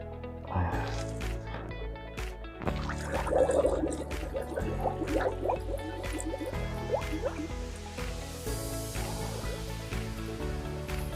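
Raw, unfermented manure liquid is poured into a drum, giving close dripping, splashing and gurgling filling sounds that shift in pitch as the level rises, with no talking.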